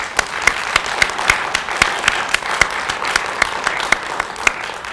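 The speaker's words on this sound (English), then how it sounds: "So let's give a round of applause to them one more time." Audience applause at a live campus storytelling event, steady clapping with sharp individual claps standing out, sustained for several seconds with no talk over it.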